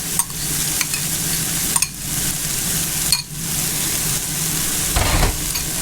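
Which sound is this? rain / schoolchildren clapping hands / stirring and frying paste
stirring and frying paste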